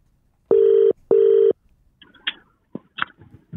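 A mobile phone call is placed, with two loud, even ringback tones in a row followed by a few short electronic blips and clicks, close and clear with no talking.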